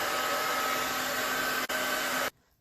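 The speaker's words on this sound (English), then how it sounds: "Then you blast it with a hairdryer." A loud hair dryer blows steadily, briefly dips for an instant, then shuts off abruptly near the end.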